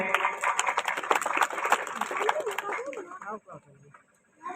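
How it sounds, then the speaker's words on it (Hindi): A crowd applauding at a welcome ceremony for an MLA in India, dense, steady clapping that fades out toward the end, while someone speaks over it in Hindi. "लगातार तालियों से हम इस स्वागत में साक्षी बनेंगे"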